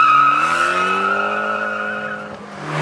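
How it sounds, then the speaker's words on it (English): A Fiat 500 Abarth Cabrio accelerates with a loud, steady, buzzy exhaust note that holds a strong tone, eases slightly, then climbs again near the end. "And that ferocious sounding exhaust is no accident either."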